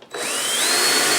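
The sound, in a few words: drill drilling holes in bottom of plastic container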